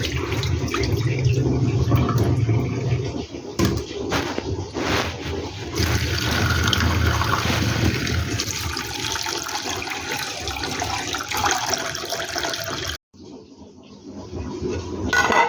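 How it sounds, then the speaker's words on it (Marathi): Mung dal being rinsed by hand in water, a steady close splashing and sloshing wash that runs almost without a break, with one short pause near the end before the water noise picks up again. "अशी स्वच्छ डाळ धुवून घ्यायची आहे"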